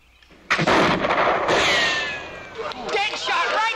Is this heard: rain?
no